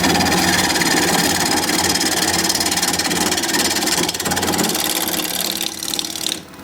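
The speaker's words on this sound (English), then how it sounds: "Yep, turning past the vibration. It's about 1100 RPM." A wood lathe spins a workpiece at about 1100 RPM, giving a steady, dense mechanical whir with a faint rhythmic vibration, close and constant before easing slightly at the end.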